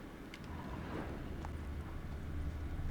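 Horse hooves clip-clop steadily in The Witcher 3, a quiet, even rhythm of footfalls over a low rumbling game background with no talk.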